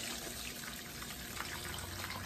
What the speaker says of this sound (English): I'm gonna just pour some, and then I'll just pour it in another container